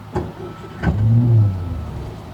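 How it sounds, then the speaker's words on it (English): An engine cranked with the starter catches and fires, a couple of brief churning bursts followed by a rising rumble as it comes to life, then settling back, moderately close with no talk. "We turn on the ignition switch, and then we pull the starter."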